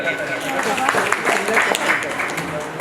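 Enthusiastic applause from a seminar audience at a personality development event, a steady wash of clapping and crowd noise throughout, with voices mixed in.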